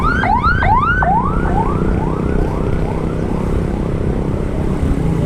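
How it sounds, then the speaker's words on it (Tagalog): An ambulance siren wails in quick rising sweeps, loud at first and then fading into the distance, over steady road and traffic noise on a ride from Bacoor to Naic. "Ambulance."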